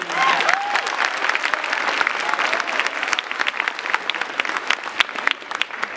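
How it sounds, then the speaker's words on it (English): Audience at a high school Black History keynote claps steadily and densely for about six seconds, a loud, sustained wash of applause with a few brief voices at the start. "Can everybody clap it up for Miss Nicole Ross?"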